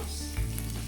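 Mushrooms go into a pan already frying with prawns and onions, a brief close sizzle that swells slightly as they land and are stirred.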